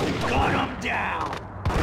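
Gunfire from enemies in the video game Max Payne, a burst of bangs with broadband noise under dense game sound and a voice talking throughout.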